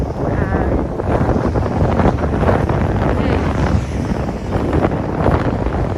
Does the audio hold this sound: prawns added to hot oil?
no